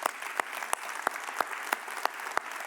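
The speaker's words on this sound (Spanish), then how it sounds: "Damos un aplauso a todos los voluntarios" A church congregation claps for its volunteers in a steady, even rhythm, each beat a sharp crisp clap over a thinner bed of scattered hand claps.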